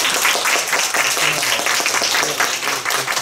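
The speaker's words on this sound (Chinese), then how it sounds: "要给我掌声吧。" An audience at a lecture bursts into loud, steady applause, dense clapping filling the room for several seconds with a faint voice audible underneath.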